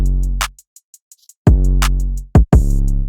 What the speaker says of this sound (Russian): И давай послушаем кик.